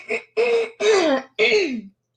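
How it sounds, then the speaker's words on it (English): Four short, rough bursts of throat clearing in quick succession, close and fairly loud, then quiet. "so I could clear my throat without being all loud in y'all's ear"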